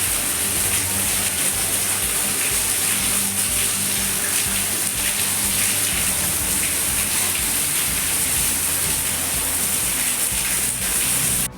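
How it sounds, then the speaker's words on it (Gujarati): Heavy rain pours down steadily over a village street, a dense, unbroken hiss of drops on surfaces that stays loud and even throughout with no voices. "અત્યારે અમારે ફૂલ વરસાદ ચાલુ થઈ ગયો છે"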